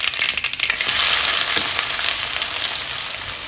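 Chopped onions hitting hot oil with mustard seeds in a pan, a loud, bright sizzle that bursts up and then holds as a steady crackling hiss, with a few light knocks at the start.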